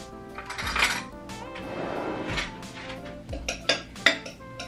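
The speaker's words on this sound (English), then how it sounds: "Grab a spoon." A spoon pulled from a kitchen drawer, with wooden drawer rumble and a scatter of metallic cutlery clinks and chinks, then several sharper clacks toward the end, close by with no talking.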